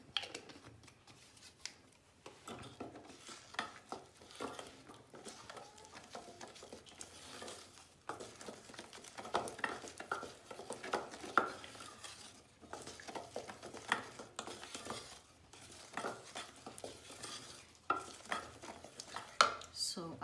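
Shortbread cookie dough is mixed in a bowl, giving quiet, continuous scraping and tapping strokes with a spoon, faint and close, with no speech.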